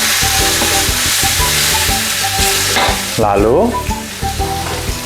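Spices with torn bay leaves and kaffir lime leaves stir-fried in hot oil for crispy tempeh, a loud steady sizzle with repeated scraping strokes of a spatula against the pan and a short voice over it midway.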